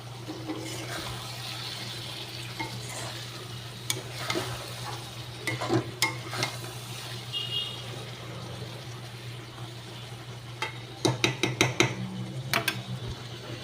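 Taro stolons cook in a pan over gas as a low steady sizzle hums underneath, broken by scattered scraping and clinking stirring strokes that cluster into a brisk flurry near the end.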